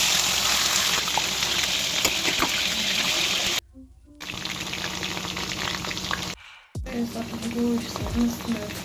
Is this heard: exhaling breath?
no